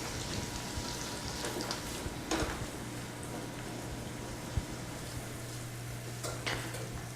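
Shallots, celery and carrots sweat gently in a pan over low heat, giving a soft, steady sizzle with occasional light stirring scrapes and clicks, close by, with no talking.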